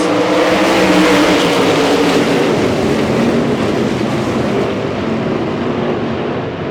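Lucas Oil POWRi 305 weight sprint cars race on a dirt track at the Southern New Mexico Shootout, a loud, dense engine roar filling the air throughout with no voices and fading slightly toward the end.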